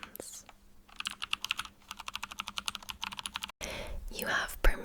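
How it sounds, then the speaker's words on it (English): Slow, calm typing on a computer keyboard, close and crisp, with evenly spaced key taps that pause briefly before some softer rustling sounds. "Let's listen to some slow, calm typing sounds."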